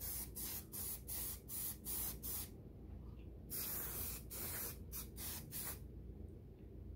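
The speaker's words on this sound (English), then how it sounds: "We're going to go ahead and apply another coat after we shook a can up." Spray paint can laying a coat on car tail lights, short and long bursts of hissing spray repeating close by with brief pauses between them, no talking.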